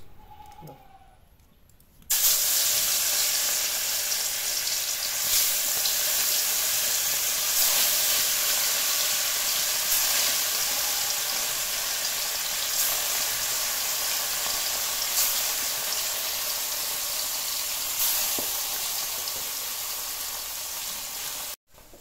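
Gourd, potato and fish cooking in a pan, a steady loud sizzle and hiss that starts abruptly and continues evenly throughout.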